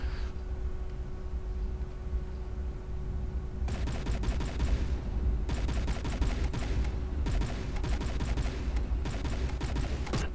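Cannons firing in the vehicle combat game From The Depths: dense, rapid volleys of sharp blasts start partway through and keep crackling in bursts over a steady low hum.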